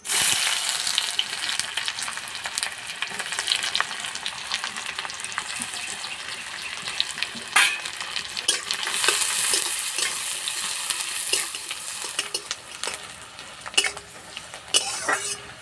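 Chopped onions frying in oil with a spoonful of ghee for egg pulao, a dense continuous sizzle close up with frequent stirring scrapes and clinks of the spoon.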